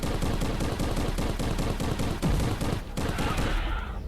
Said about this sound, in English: Secondary fire bullets there.